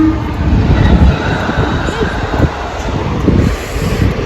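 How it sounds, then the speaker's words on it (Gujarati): Train rolling past a closed railway crossing near Junagadh, a loud, close, continuous rumble and rattle of rail cars with a voice talking over it. "ફાઈટક બંધ છે રેલગાડી આવે છે"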